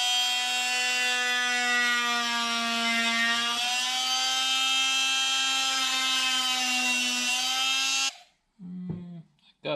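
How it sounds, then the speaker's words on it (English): An oscillating saw gently cuts Kydex plastic for a mountain bike frame guard on a 2019 YT Jeffsy AL Base, giving a loud, steady, high-pitched buzzing whine for about eight seconds, then stopping, followed by a few faint handling knocks. "I've got an oscillating saw that we're gonna try"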